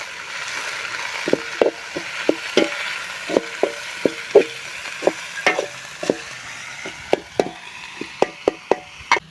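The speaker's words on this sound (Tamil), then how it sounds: "இப்போ வேவிச்சு வச்ச முருங்கைக்கீரையும் போட்டுக்கலாம் நல்லா வதக்கிக்கலாங்க" Irregular scraping and tapping of a utensil against a pan over a soft background sizzle of boiled drumstick leaves sautéing, close by, with sharp stirring strokes every half second or so.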